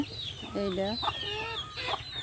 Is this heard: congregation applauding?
no